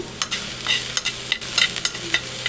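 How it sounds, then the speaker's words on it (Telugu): Vegetables fry lightly in a little oil in a pan for gobi, with soft steady sizzling and frequent scraping stirs from a spatula, close and clear, with no voices. "ఇవన్నీ లైట్గా వేయించుకోవాలి ఎక్కువ మగ్గన అవసరం లేదు ఇలా లైట్గా వేగిన చాలు"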